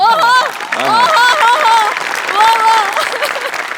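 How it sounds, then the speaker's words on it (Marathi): A studio audience at a Marathi comedy sketch show claps loudly and continuously after a skit, with excited voices cheering and calling out over the applause. "म्हणजे बनेसाठी टाळ्या"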